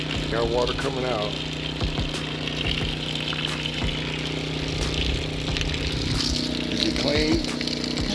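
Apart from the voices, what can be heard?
water pump running with water gushing out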